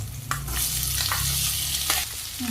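Boiled potatoes stirred in a pan of hot oil with chilli, salt and crushed peanuts for a potato bhaji, giving steady sizzling with scraping spatula strokes close by.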